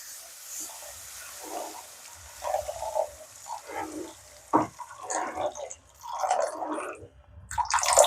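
Water poured into semolina roasting in a pan for upma, bursts of bubbling and spluttering sizzle that come and go over a low rumble, close and moderately loud.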